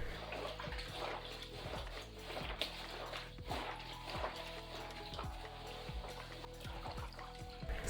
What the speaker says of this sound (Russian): Теперь его нужно немного помять руками.